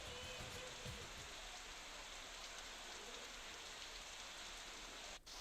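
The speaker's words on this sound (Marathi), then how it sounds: "गोंदियामध्ये मुसळधार पाऊस पडतोय." Heavy monsoon rain pours in Gondia, a dense, steady hiss of drops on surfaces that stays even and constant throughout, with no voices.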